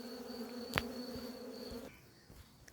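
A steady honeybee buzz hums close by with a tonal drone, joined by a brief sharp sound, then fades to a quieter background.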